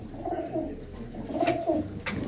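Pigeons kept in a loft cooing in low, throaty rolling phrases, two or three close calls in succession over a quiet background.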